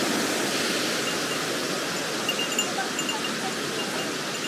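Kirifuri waterfall in the Yokoya gorge along the Shibukawa stream gives a steady, full roar of falling water. It sounds close and constant, with no one talking.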